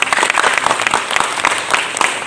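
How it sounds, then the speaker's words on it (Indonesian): Audience applause in a hall during a Hindu dharma gathering for students, dense steady clapping close by with no talk over it. "Jadi tepuk tangan untuk beliau"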